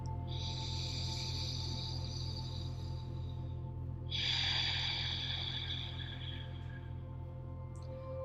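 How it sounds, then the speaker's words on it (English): Slow, deep belly breaths drawn in and let out through the nose during a gentle postpartum yoga session, two long airy breaths heard close over a steady low background hum. "Let's do a few rounds of deep belly breath."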